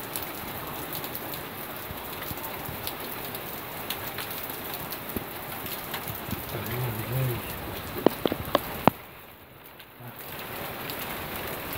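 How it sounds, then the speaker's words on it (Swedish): Heavy downpour during a thunderstorm behind a house, a dense steady hiss of rain pounding surfaces throughout, with a few sharp close clicks and drips late on before the roar briefly softens. "Nu kommer ju äntligen regnet här."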